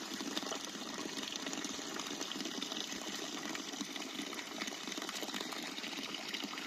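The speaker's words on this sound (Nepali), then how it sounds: "चिसो पानी अहिले चाहिँ यहाँ बगिरहेको छ।" Cold water running steadily from a bamboo spout tap at a hillside cattle-grazing spot, a soft continuous trickle and gush, fairly faint and unbroken, with no talking.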